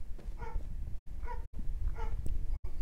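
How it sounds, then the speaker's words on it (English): A dog barks several times in a row, loud and close, with muffled, gruff barks in short bursts broken by brief gaps, heard during a livestream of Skyrim played on console. "if you heard the barking bark"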